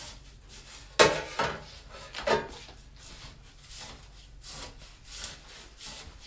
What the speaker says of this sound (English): mix the oil with the trim repeatedly so we can